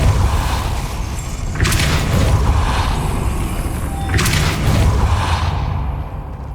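Depulso spell cast in the Hogwarts Legacy video game, two whooshing bursts about two and a half seconds apart over a loud rumbling game ambience, with no talking.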